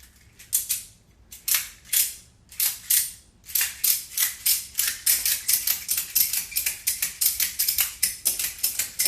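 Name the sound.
ratchet strap of FITKIT door anchor being ratcheted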